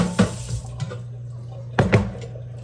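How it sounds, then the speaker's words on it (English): Water splashes from a tap into a pot for chicken spaghetti in a couple of short gushes over a steady low hum, with no talking. "I'm just going to add water to this and get it on the stove."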